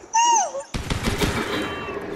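A charge SMG in Fortnite fires a quick rattling burst of shots close by, preceded by a brief electronic tone, loud and sharp with a short tail of rapid cracks.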